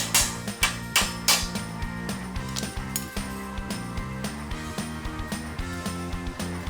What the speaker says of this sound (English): Now we can use that pry bar and hammer on the tie rod to knock it loose.